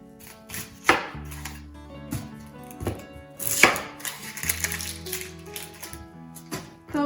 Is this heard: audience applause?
no